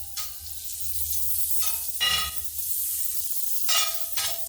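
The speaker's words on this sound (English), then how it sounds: "we're going to melt just a bit of butter in it, making sure to have a nice coat of melted butter on the entire surface of the pan." Butter melting in a skillet for flatbread, giving a soft continuous hiss punctuated by several louder crackling sizzle bursts, close and alone without talk.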